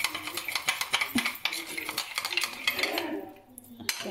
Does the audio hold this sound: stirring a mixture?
yes